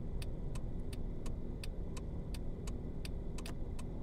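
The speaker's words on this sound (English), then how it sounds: "What do you think to the sounds of the actual car itself, guys?" A car engine in the Taxi Life city driving game hums at a low, steady drone, quiet and even, with a regular light ticking over it and no voices.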